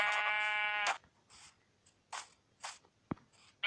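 Sheep in the video game Minecraft bleat in a loud, harmonic, wavering call at the start, followed by short, fainter bursts and a sharp click, with no talking.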